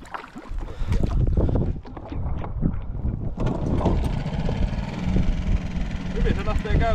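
A boat's outboard motor on the Tornio River starts up and settles into a steady running drone, heard close with wind buffeting the microphone and people talking over it.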